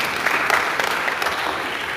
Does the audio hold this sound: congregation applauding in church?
yes